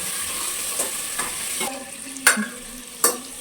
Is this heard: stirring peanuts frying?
yes